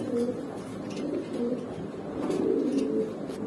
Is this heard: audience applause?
no